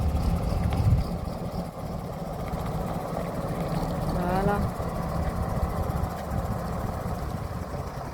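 A bus engine idles with a steady low rumble while the vehicle slowly maneuvers to pull alongside a hedge, a continuous close drone with a brief rise midway and a short spoken word over it.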